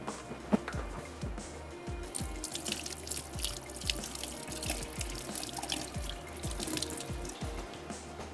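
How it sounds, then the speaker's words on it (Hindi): Water runs steadily from a kitchen tap into a sink while hands are washed, with soft dripping and splashing throughout and low background hum. "हैंड्स वॉश कर लेते हैं।"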